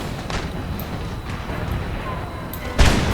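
Musket volleys in Empire: Total War, Ottoman Empire battle with Darthmod: a steady rumble of distant gunfire and battle noise, with a louder, sharper burst of simultaneous shots near the end.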